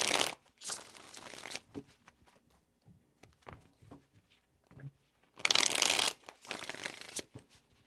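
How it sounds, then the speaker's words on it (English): Tarot cards riffle and shuffle in quick bursts close to the microphone, with two longer papery flurries separated by softer taps and handling sounds, no talking. "3 shuffles"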